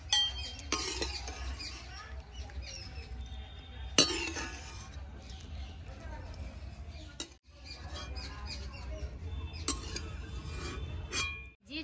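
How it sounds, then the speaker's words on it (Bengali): Boiled orange peels strained from a pot into another pot in a home kitchen, with scattered clinks and scrapes of a metal strainer and utensils against cookware, a few sharper knocks standing out over a steady low background hum. "আবারও আমি এই পাত্রের মধ্যে এইভাবে ছেঁকে তুলে নেব।"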